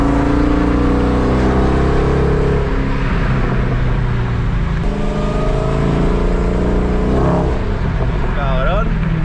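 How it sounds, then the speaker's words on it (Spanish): A 2016 Dodge Challenger SRT Hellcat rumbles loudly in traffic, its deep engine note steady and close with a swell of revving partway through, while people talk over it. "cómo bufa el carrito"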